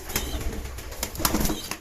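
Rapid bursts of wing flapping from a tumbler pigeon, a quick flurry of beats close by, with no voices.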